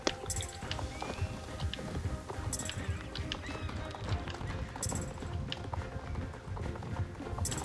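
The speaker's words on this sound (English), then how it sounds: "It was an honor to ride you, Tinky." A horse gallops in the video game Star Stable Online, giving a quick, steady rhythm of hoofbeats under bright game effects and recurring chiming sounds, with no talk.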